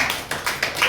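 A church congregation at a Telugu worship service claps together in quick, rhythmic bursts, four or five sharp claps close and clear with no talking over them.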